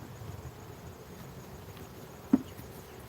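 Honeybees being driven out of a hive with a fume board give a steady, low insect hum throughout, with one brief sharp knock partway through; no one speaks.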